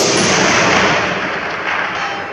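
A Model 1941 Johnson rifle firing, a loud sharp report at close range that rolls into a long, sustained echo across the range.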